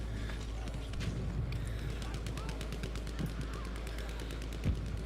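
Rapid bursts of Type 100 submachine gun fire in the Battlefield 5 video game, sharp repeated shots crackling through a dense, noisy battle mix.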